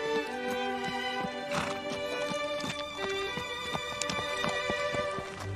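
Horse hooves clip-clop in an even walking rhythm on a hard surface, close by, with brief snorts or a whinny in between.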